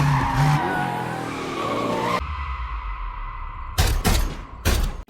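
Car tires skid and squeal loudly during a chase scene in an action movie, a long screech followed by a quieter rumble and two sharp bursts of impact or renewed skidding.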